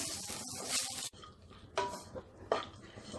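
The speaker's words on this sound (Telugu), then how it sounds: "ఇప్పుడు ఉడికించి చల్లారబెట్టుకున్నటువంటి కొర్ర అన్నంను వేసుకోవాలి. ఇది అంతా బాగా కలుపుకుందాం." A spoon scraping and clinking in a pan while cooked foxtail millet rice is mixed with amla, a few distinct stirring strokes, close and moderately quiet.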